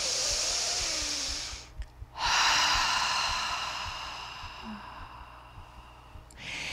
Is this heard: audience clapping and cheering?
no